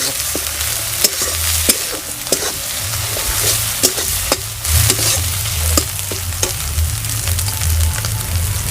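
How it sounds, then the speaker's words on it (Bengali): Ginger-garlic and cumin-coriander paste frying in a pan for a Bengali village-style tomato egg curry: constant close sizzle with sharp intermittent spoon clicks and scrapes against the pan, no voices. "এখানে আমি দিয়ে দিচ্ছি আদা রসুন বাটাটি, জিরে ধনে বাটাটুক দিয়ে দিচ্ছি আমি"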